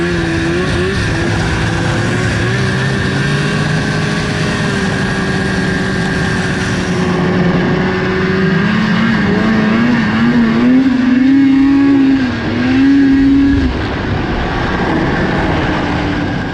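A freshly rebuilt 500 engine runs on its first ride, a loud, continuous drone whose pitch climbs and falls as it revs, heard close with steady wind noise.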